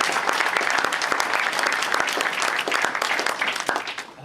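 An audience at an anniversary celebration event claps in sustained, dense applause that stays loud and steady throughout before easing slightly at the end.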